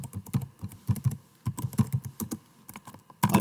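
Clicky keystrokes on a computer keyboard in quick irregular bursts with a brief pause, close and fairly loud, no talking.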